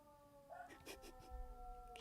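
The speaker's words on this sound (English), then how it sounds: "Oh, there's a fire truck." A fire truck siren passes outside, faint and distant, its wavering tone under a moment of talk and background noise.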